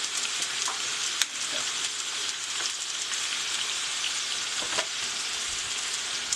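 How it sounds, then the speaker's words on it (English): Chicken searing in a pan with a steady, even sizzle and faint crackle throughout, with a couple of small sharp pops and no talking. "I'm going to let it sear for 3 to 4 minutes on each side"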